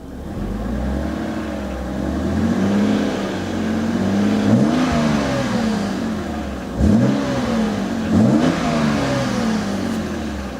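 A BMW 130i engine idles then revs repeatedly, rising and falling in pitch with several sharper blips, loud and close with no talk over it.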